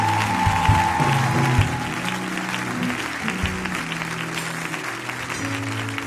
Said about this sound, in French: est-ce qu'on peut acclamer le nom du Seigneur?